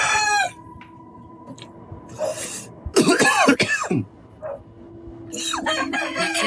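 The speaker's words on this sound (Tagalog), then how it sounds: "inuubo ako" A person coughing hoarsely after spicy food catches in the throat, with a few harsh throat-clearing bursts and coughs broken by pauses, and a rooster crowing in the background.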